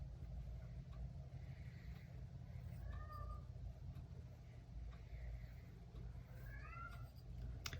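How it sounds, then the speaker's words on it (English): A cat meows twice, rising and falling cries about four seconds apart, over a steady low rumble of background noise. "If you can hear that meowing, that is Fluffy."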